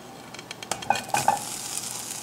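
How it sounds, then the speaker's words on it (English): Potatoes dropping into a pan on low to medium heat, with a few clinks of utensil on metal followed by a soft, steady sizzle that stays moderately close. "So now we have the pan just on a low to medium heat, and we can go ahead and add the potatoes to that."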